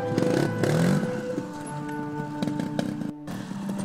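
A trial motorcycle at an outdoor trials event in Ancelle, 2011, gives a loud, close burst of engine revving that rises and then settles into a rough, uneven throttle, with brief scraping and clatter.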